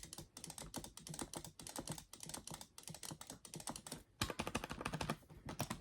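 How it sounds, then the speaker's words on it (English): Buttons on an arcade fightstick are clicked in quick, uneven bursts of sharp plastic taps, close and crisp with short pauses between flurries and no voice. "I'm going to be doing some nice clicking"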